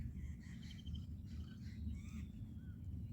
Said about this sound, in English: on the birds that are singing